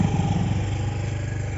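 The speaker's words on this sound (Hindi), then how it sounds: "घाटी रास्ता रे हमर सब बाइक पार होछि" A motorbike engine running steadily as riders travel along a small hill ghat road through forest near Balasore, Odisha, a loud, close, even rumble with no talk.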